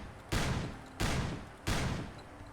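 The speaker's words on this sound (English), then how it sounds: "This one is the Dragon's Breath flak gun" Three heavy, booming shots from the Dragon's Breath incendiary flak gun in Fallout 4, fired at an even rhythm about two-thirds of a second apart, each blast loud with a long rumbling tail.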